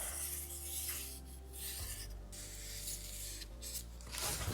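A pencil traces around a template onto a plywood panel for a camper van wall, giving a close, continuous scratchy rubbing in uneven strokes over a steady low background hum, with no talking.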